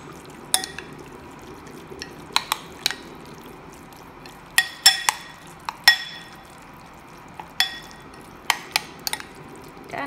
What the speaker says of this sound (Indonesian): Setelah itu aku akan aduk-aduk seperti ini.